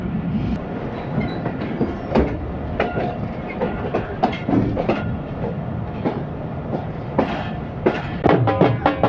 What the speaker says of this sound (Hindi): ट्रेन खुशहाल खान खटक एक्सप्रेस पहली बार आके यहाँ रुकी है